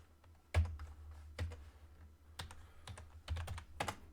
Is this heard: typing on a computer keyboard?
yes